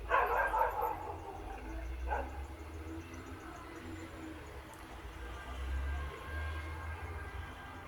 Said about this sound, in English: that's what I was gonna say when I heard the dogs